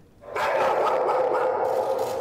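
A big dog barks in a steady, continuous run of loud, close barks with no talk over it.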